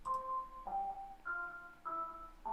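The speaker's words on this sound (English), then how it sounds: "this is just a preset from Serum" A Serum synthesizer preset plays a bright, steady melody of sustained tonal notes, about five of them, changing pitch every half second or so at moderate, even loudness with no voices.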